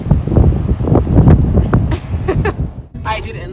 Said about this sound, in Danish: det blæser simpelthen for meget, og det er for koldt til, at vi kan holde ud og gå her